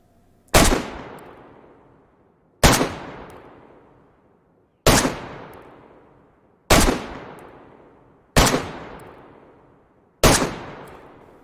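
AK assault rifle fired in DayZ, six loud single shots spaced about two seconds apart, each a sharp crack trailing into a long fading echo, with no talking.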